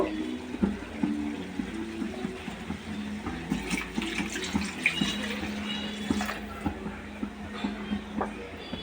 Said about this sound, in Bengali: এখানে আমি সামান্য একটু জল অ্যাড করব